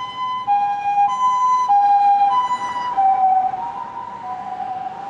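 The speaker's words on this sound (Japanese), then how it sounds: "救急車が 来たよ。" An ambulance siren wails loudly and close by, its two-tone pitch alternating steadily and holding for the whole stretch over a low rumble of traffic.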